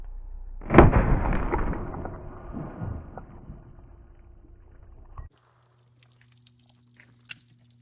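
A single loud, close gunshot from a .40 S&W pistol firing Hornady Critical Defense 165-grain FTX rounds into gallon water jugs, with a sharp crack and several seconds of rumbling decay before near silence and a faint late tick.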